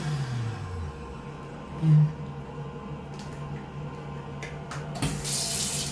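Tap water runs steadily into a sink in a car park restroom in Sweden, a constant close splashing hiss with a brief low thump partway through.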